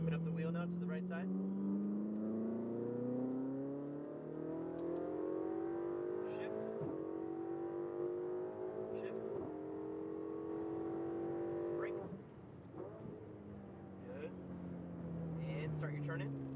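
Ferrari 488 GTB being driven on a race track, its engine note rising through the gears with sharp shifts and throttle lifts, heard from inside the car under an instructor's continuous coaching.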